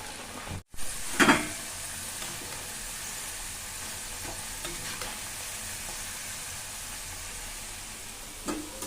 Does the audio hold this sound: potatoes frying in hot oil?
yes